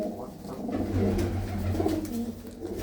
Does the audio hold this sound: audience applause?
no